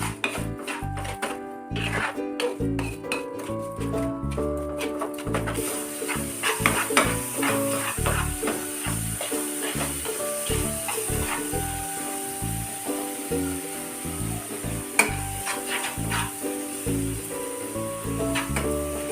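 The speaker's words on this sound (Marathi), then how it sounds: "खवा परतताना नेहमी चमच्याने असा परतायचा" Khoa is stirred and pressed with a spoon in a hot pan, giving a continuous close sizzle broken by scraping strokes, while music plays underneath throughout.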